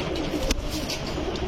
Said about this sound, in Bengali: জঙ্গলা কবুতর বলে এগুলাকে